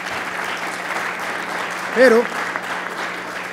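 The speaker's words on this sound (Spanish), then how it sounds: "Realmente les quiero pedir un aplauso para ellos" Audience applause at a public event, a steady wash of clapping throughout with a brief spoken word rising above it midway.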